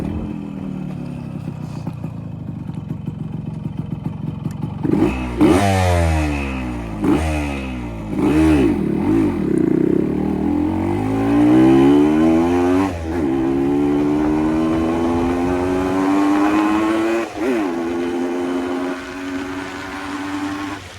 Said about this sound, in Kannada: ಈ ಗಾಡಿ ಎಕ್ಸಾಸ್ಟ್ ನೋಟ್ ಕಳಿಸ್ತೀನಿ ಬನ್ನಿ.